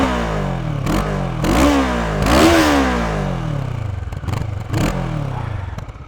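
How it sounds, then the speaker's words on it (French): A CF Moto 650NK motorcycle, with its small Kawasaki-derived engine, revs hard several times in quick blips, each rising and falling sharply, close and loud, with no talk. "Le bruit, le son de son moteur."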